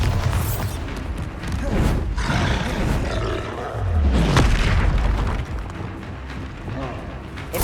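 A Bombarda spell blasting in Hogwarts Legacy, with heavy booming, roaring explosion rumble sustained over several seconds amid game noise; a voice calls out at the start.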